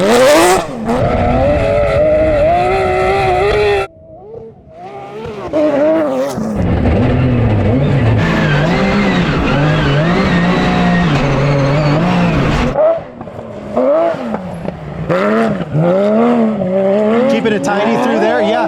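A Porsche GT3 Cup race car tears along a dirt rally stage, its engine loud and close, revving and shifting with a steady high-pitched roar that drops briefly before surging again, and a voice talking over it.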